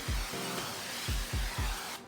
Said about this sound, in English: Next, I'm going to coat my muffin pans with cooking spray.